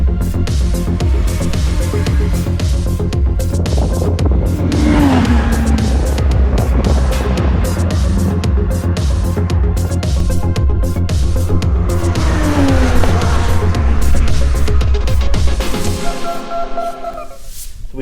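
A homemade Lancia Stratos-inspired GT racecar driving hard on a track: a loud, sustained engine drone with rising and falling revs and shifts, easing off near the end.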